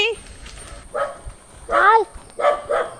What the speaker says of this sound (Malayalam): പട്ടിയാണോ?